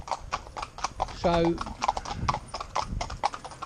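Horse hooves clip-clop on a cambered road, a pair of horses in tandem harness including a small bay on the near side, with steady rhythmic strikes running under someone talking throughout and a brief whinny-like tone partway through.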